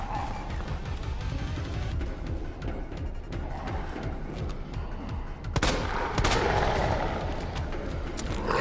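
Gunfire in the Resident Evil 2 Remake Ghost Survivors DLC: a few sharp shots ring out amid a steady, dense game soundscape, with a louder burst near the end.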